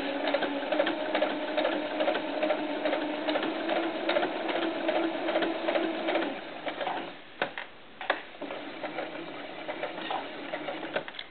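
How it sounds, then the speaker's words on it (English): A sewing machine runs a fast basting stitch across doll diapers, whirring in a steady rapid drone for several seconds, then pausing and restarting in shorter bursts. "basting stitch, so it's going to go pretty fast."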